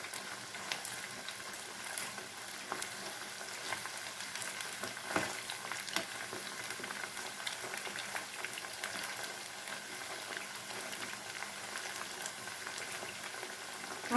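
Chicken 65 pieces deep-frying in hot oil, a steady bubbling sizzle with scattered pops and crackles, close and continuous with no talking.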